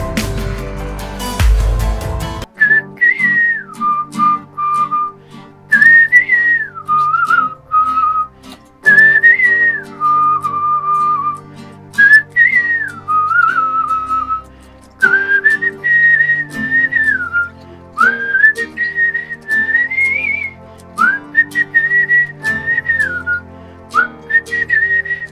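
A young man whistles a song melody, clear and close, with bright sustained phrases that rise and fall in repeated bursts over a soft backing track, alone with no talk.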